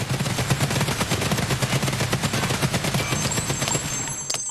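Rapid automatic fire from an MDR 5.56 rifle in a shooter game, a sustained burst of close, loud shots in a tight steady rhythm that stops near the end, with no voice over it.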